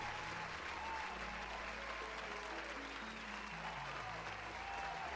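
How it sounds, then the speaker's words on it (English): A crowd applauds steadily for the whole stretch, with dense sustained clapping and no breaks. "Let's give Slashly a little round of applause"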